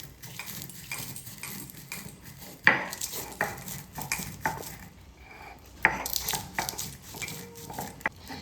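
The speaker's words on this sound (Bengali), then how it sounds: "গরম অবস্থাতেই গোটা মশলাগুলোকে আমি গুঁড়ো করে নেব।" Hot roasted whole spices crushed on a shil-nora grinding stone for raw mango pickle: irregular hard knocks and grinding scrapes of stone on stone, close and moderately loud, with sharper thuds scattered between softer rubbing strokes.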